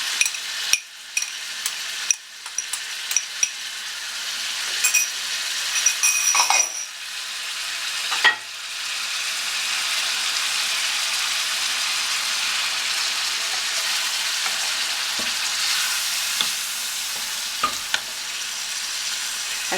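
A large spoonful of garlic and a half spoon of hot chili harissa fry in a pan, a steady sizzle with occasional clinks and scrapes of a spoon near the start, no one speaking.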